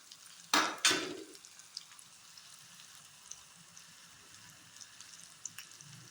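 Onions frying in a pan for kundru sabzi, stirred with a utensil: two sharp scraping clatters near the start, then a soft, steady sizzle with occasional small clicks.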